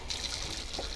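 Broccoli florets drop into a pot of water for blanching, a soft steady trickle and splash close by, brief and without talk.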